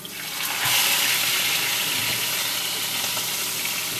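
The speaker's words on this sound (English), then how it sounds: "You want to hear that nice sizzle." Salmon fillets hit a hot frying pan; after a brief moment a loud, steady hissing sizzle builds up and continues close by.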